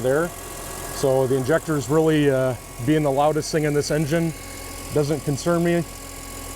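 A car engine idles with a fuel injector ticking beneath it, steady and low under someone talking close to the microphone.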